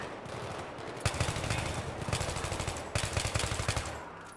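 Rapid automatic gunfire from Battlefield 3, loud and close, arrives in dense bursts of sharp repeated shots with brief pauses between volleys, alone without talk.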